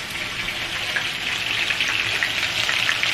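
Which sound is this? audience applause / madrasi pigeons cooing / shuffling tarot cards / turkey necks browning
turkey necks browning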